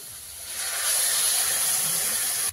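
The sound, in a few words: water added to hot pan of cooked pumpkin, hissing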